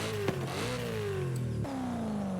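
A 2005 BMW M3 with its stock exhaust in the racing game Forza Horizon 5 revs up and falls back in a smooth, mid-pitched engine drone, one quick blip then a longer steady sweep, clear and alone.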